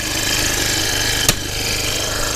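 A Mantis tiller's small, warmed-up engine runs at an even, loud idle close to the microphone, with one brief sharp click partway through.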